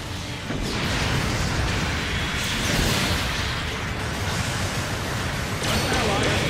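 A loud explosion as an enemy mobile suit is destroyed in a Gundam space battle game, a broad roaring blast sustained for several seconds over continuous noise, with a voice speaking over it.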